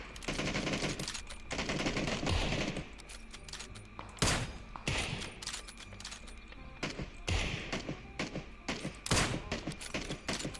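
Rapid bursts of PUBG gunfire crackle almost nonstop, with sharp louder shots standing out against a dense, busy background.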